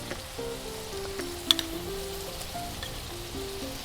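Onion, garlic and tomato paste fry in a cauldron for a wild boar stew, giving a soft, steady sizzle with faint tonal hum underneath and no talking.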